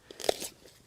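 A single crisp crunch as teeth bite into a raw yacon root, a sweet tuber with apple-like flesh, heard close and brief, followed by a little soft chewing.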